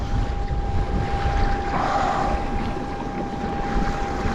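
A kayak rides big ocean waves off Maine during a lobstering trip, with steady rushing water and surf under heavy wind buffeting the microphone, continuous and close throughout without any talk.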